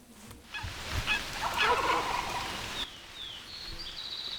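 A wild turkey gobbles in the hunting game The Hunter: Call of the Wild, on a rainy day. One fairly loud, throaty burst of calling rises for about a second over steady rain-like hiss, with no talking.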